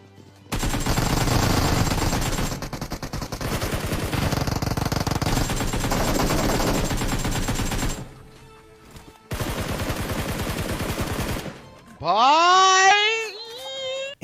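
Rapid sustained automatic rifle fire from an M-series gun in a competitive shooter match, dense bursts filling the first eight seconds and resuming after a brief gap, followed by a swooping electronic tone at the end.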